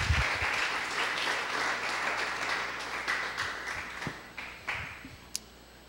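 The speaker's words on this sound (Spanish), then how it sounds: "¿Cuántos aplauden al Eterno?" A church congregation applauds with steady, dense clapping that gradually thins and fades, ending in a few scattered late claps.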